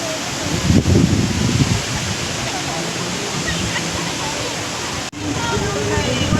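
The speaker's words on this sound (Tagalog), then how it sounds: "Makikita nyo ang ganda ng waterfalls dito." Steady broadband rush of Wulai Falls in Taiwan, loud and continuous throughout, with a brief dip near the end.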